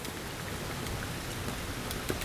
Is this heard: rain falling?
yes